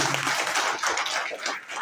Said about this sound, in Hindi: उनके लिए भी जोरदार आपको ताली